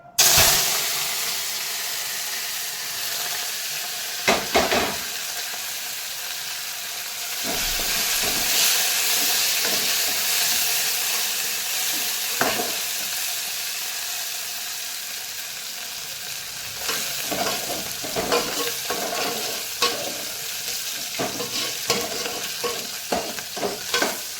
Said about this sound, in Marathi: तर हे बघा तेल गरम झालेलं आहे, तर त्यामध्ये मी आता कोथिंबीर टाकते